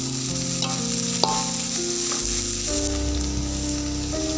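Stir-frying in a hot pan with dried shrimp and soybean sambal, a continuous loud sizzle with occasional scrape of a utensil and a steady mechanical hum underneath, no talking.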